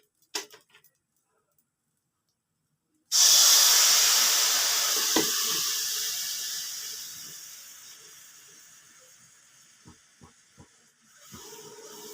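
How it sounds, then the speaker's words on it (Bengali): Nolen gur jaggery dropped into a hot wok for sandesh bursts into a sudden loud sizzle that slowly fades, followed by a few light clicks. "এবার আমি কড়াতে দিয়ে দিচ্ছি একটু গুড়।"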